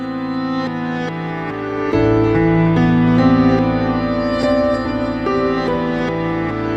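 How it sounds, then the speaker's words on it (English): Piano chords from the NieR Re[in]carnation soundtrack, each note shadowed by a reversed copy of itself that swells into the attack, giving a sustained, dreamy, slightly unsettling wash of layered tones with no voices. "these notes played by the piano are accompanied by a clone of themselves playing in reverse"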